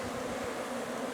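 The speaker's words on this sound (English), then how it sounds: "there sure are a lot of bees" Dense, steady buzzing of many honey bees swarming around a hive nearby, a continuous hum with no voices.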